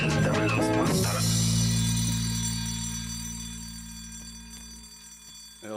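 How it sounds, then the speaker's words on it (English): An alarm clock rings with a dense metallic clatter that fades slowly as it sustains, close and steady for several seconds, layered over a low tonal drone with faint musical notes at the start. "I love the alarm clock at the end."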